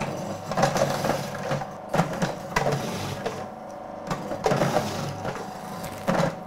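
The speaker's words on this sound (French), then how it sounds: "il suffit juste de les mettre dans le robot" A food processor grates potatoes for rösti in short bursts, with rough crunching and whirring as pieces are pushed through, separated by brief pauses. The sound is close and moderately loud.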